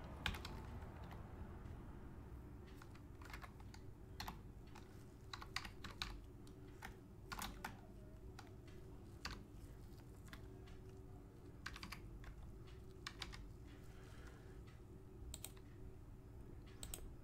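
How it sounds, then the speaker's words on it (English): Rapid typing on a computer keyboard, quiet and close, with irregular bursts of sharp key clicks and brief pauses, and no voices. "I was typing something in on my screen over here"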